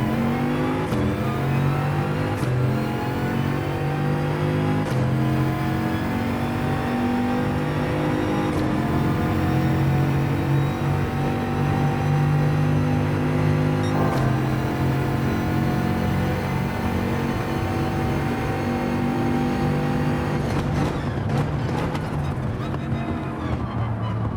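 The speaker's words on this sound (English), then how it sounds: "Using some engine braking to slow this beast down." Bugatti race car in the Gran Turismo video game slowing under engine braking, a loud continuous engine drone with falling harmonics and brief gear-change breaks, heard alone and close throughout.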